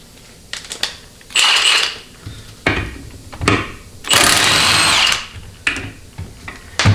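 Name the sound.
impact wrench removing bolts on Ford C6 transmission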